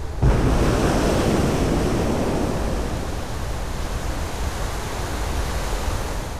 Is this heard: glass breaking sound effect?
no